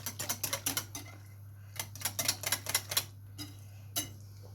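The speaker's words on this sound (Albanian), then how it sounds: "E përzjejmë." Spoon clattering rhythmically against a bowl while stirring a yogurt and egg mixture for tave kosi, a series of quick light clinks in bursts with short pauses, close and fairly quiet.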